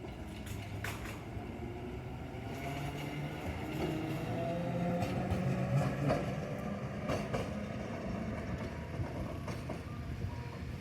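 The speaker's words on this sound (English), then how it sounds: "He got off to film this tram going round a big bend." A Randen tram in Kyoto rolls round a big bend, a steady close rumble of wheels on rail with faint squeals and occasional clicks, loudest midway through and continuous throughout.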